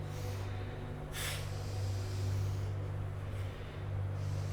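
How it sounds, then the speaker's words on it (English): Rapid breathing in a Kundalini yoga kriya, with strong breath bursts, sharp inhales and exhales, heard over a steady low hum. "So inhale forward, exhale back."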